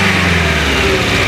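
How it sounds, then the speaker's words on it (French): A Renault 11 engine fitted with a Rapid F40 carburettor runs loud and close, holding a steady, even drone with no talk over it. "Regarde, j'accélère."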